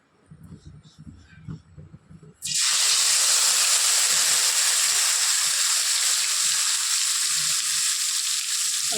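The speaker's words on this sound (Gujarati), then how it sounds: "એ આપણે તેલમાં એડ કરવાની છે, એનો વઘાર કરવાનો છે" Onion, tomato and garlic gravy hits hot oil in a pan with a sudden loud, sustained sizzling hiss that continues steadily after a few seconds of quieter kitchen handling and talk.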